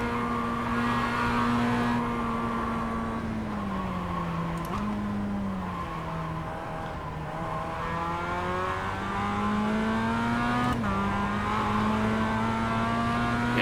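A Mazda MX-5 race car engine in a racing video game drones steadily, its pitch rising and falling through gear changes with occasional shifts, loud and continuous with no talk.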